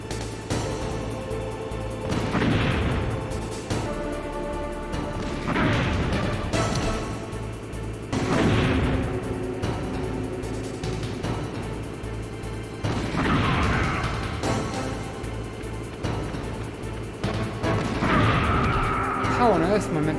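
A tank attacking in the PS1 game Metal Gear Solid, with repeated heavy blasts and crashing impacts at regular intervals under a droning engine and game music.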